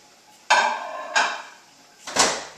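Covered plate of breakfast food set into a microwave: three separate clinks and bumps of dish against the oven's interior, each a short sharp knock with a brief ringing tail, close and fairly loud, with no voices.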